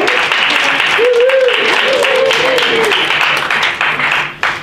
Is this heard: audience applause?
yes